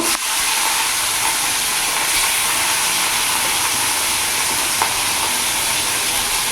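Rohu fish pieces dropped into hot oil with a little turmeric in a wok set a loud, steady frying sizzle going that hisses evenly throughout with no voices.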